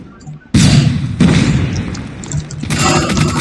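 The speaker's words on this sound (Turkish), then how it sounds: "Bomba attılar." Bomb blast in the mobile shooter Call of Duty Mobile, a sudden loud booming burst followed by sustained rumbling noise and a second surge, close and dominant.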